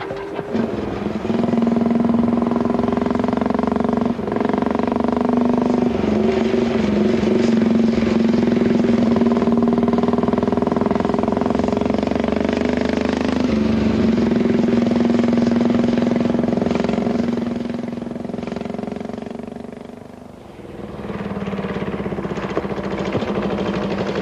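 A vintage motorcycle rides along bumpy back roads on an island, its engine droning loudly and close with a steady tone that rises and falls as it changes speed, briefly easing off near the end, with no talking.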